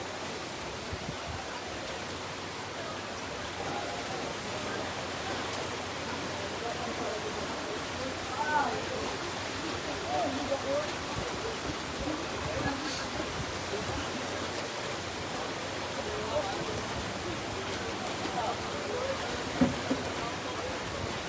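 Typhoon floodwater rushing through a street in Cebu, a steady broad wash of flowing water with faint scattered splashes, moderately distant, with occasional voices in the background.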